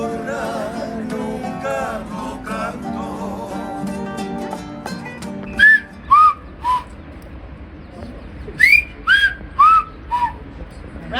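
Whistled language performed outdoors in Tenerife in the Canary Islands: after a stretch of ambient noise, a series of loud, sharp, pitch-gliding whistles come in short separate bursts, close by and carrying.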